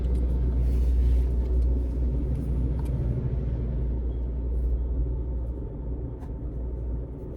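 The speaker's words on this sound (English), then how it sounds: "So I don't know what's going on with this doggone car, because it's definitely sounding weird." A troublesome car's engine rumbles steadily at idle, a low continuous drone that sounds rough and uneven, holding fairly loud throughout with no talking.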